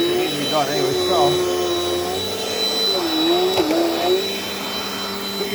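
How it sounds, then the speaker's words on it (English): A Dirt Devil Dynamite Plus vacuum cleaner runs up close with a steady high whine and motor roar, its pitch dipping briefly as it works, while someone talks over it. "Pressure vacuum along the side of the two guys, it needs to be done anyway"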